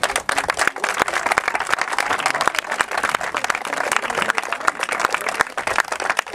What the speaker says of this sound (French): On peut l'applaudir, Loris.